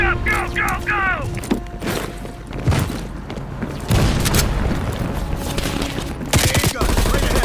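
Call of Duty Cold War battle with dense gunfire bursts and booming explosions, cracking shots near and far, mixed with shouted game voices over the din.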